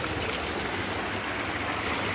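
A small stream runs full after heavy rain following a dry month, a steady broadband rush of flowing water with faint trickling, constant and moderately close, with no voices.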